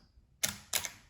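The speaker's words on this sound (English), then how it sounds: "every time the shutter clicked" Two sharp camera shutter clicks about a third of a second apart, crisp and close, with near silence around them.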